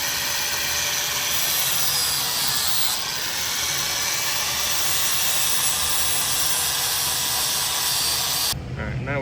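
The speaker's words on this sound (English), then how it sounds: "Now we're gonna bevel these plates." An angle grinder bevels the edges of steel plates for welding, a loud continuous high-pitched whine with gritty rasp that holds steady for several seconds before cutting off at the end.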